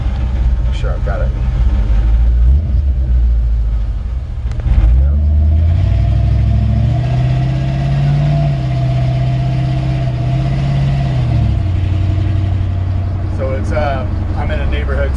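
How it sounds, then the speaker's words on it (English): A 1954 Ford F100 pickup with a fuel-injected engine and aggressive exhaust idles and revs in a neighborhood, a loud low rumble rising and holding steady, with someone talking over it. "Nice aggressive exhaust system."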